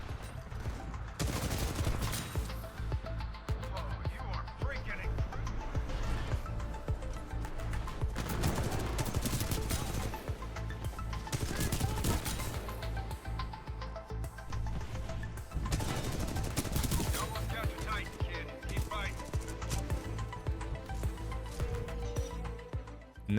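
Sustained rapid automatic fire from an R201 Carbine assault rifle in the shooter game Titanfall 2, loud and dense, in long bursts with brief lulls and sharp impact cracks throughout.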